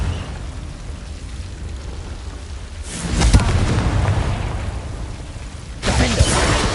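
Confringo spell blasts in Hogwarts Legacy burst out as two booming explosions, the first rumbling on for a couple of seconds and the second hitting near the end, over a steady background roar.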